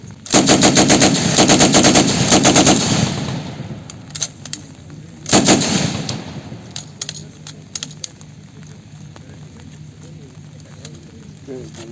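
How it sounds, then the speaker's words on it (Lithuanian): A light machine gun fires at a military reenactment, with a long rapid burst up close, then a second shorter burst, and scattered sharp clicks and metallic rattles in between. "Dėmesio, šūvis."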